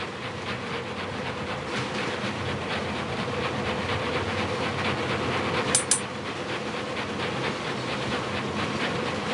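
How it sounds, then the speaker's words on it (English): A train runs in the Murder on the Orient Express game, a continuous rumble with a rhythmic clickety-clack that stays steady throughout. Two sharp high clicks come near the middle, and nobody speaks. "the most luxurious train in the world"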